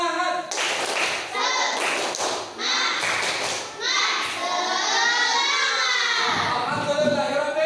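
A class of children performs a rhythmic spirit clap in an Islamic religious lesson, with sharp patterned claps and thumps mixed with loud, close group chanting voices across the whole stretch.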